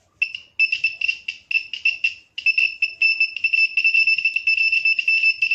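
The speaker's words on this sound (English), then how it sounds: "That is the alarm, or that's the sensor we can hear when an earthquake happens." A homemade earthquake sensor's buzzer alarm shrills in a high, steady electronic tone, pulsing in short choppy bursts before settling into a near-continuous buzz.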